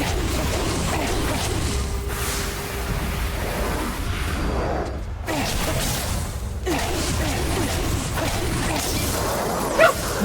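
A dog barks in the video game Ghostwire: Tokyo amid loud game action, with whooshing swishes and mechanical clatter and a brief crash, close and busy, the barks mixed into the dense game sound.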